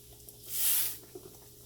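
A yeast donut dropped into hot frying grease gives a brief, soft sizzling hiss that swells and fades over about half a second, with only faint background noise otherwise.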